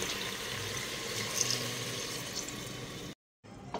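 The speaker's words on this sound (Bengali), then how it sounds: "এখন ঝোলের জন্য পরিমাণ মতো জল অ্যাড করে দিচ্ছি।" Water poured into a pressure cooker of Bengali meat curry with garlic, a steady broadband splash running for about three seconds before cutting off, then a faint resumption.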